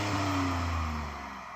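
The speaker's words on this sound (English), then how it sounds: "And let's hear your V6 twin turbo petrol." A Ford Raptor pickup's V6 twin-turbo petrol engine is heard loud and close, its tone sliding smoothly downward as the revs fall away after a blip, with no talking.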